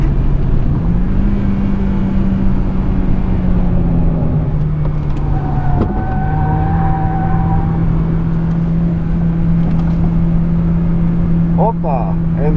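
A Honda Accord CL7 with a 156-horsepower engine drones steadily from inside the cabin during a track day, its engine note holding nearly constant while someone talks over it.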